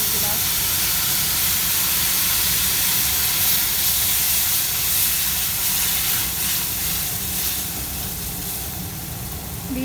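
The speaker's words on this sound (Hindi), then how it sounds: "अब एहिमे हम पानि डालि देबै 1 गिलास।" A glass of water poured onto roasting semolina for halwa sets off a loud, steady, close steaming hiss and sizzle that holds throughout, easing slightly toward the end.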